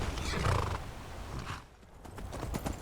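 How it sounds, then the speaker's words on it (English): Horses neigh and whinny in Skyrim Special Edition, their calls mixed with hoof clip-clops over a busy, noisy game background. "I'll take the horses as far as the stable"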